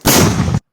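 A single loud, sharp mortar blast from a frontline mortar crew near Pokrovsk, Ukraine, with a short rumbling tail, then abrupt silence.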